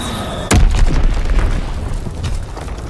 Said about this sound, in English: Throw a stun grenade!